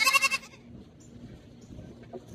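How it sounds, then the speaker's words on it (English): A dairy goat at a goat show bleats in a short burst at the start, close and fairly loud, then fades into quiet barn background. "here we are, milking our own goats now"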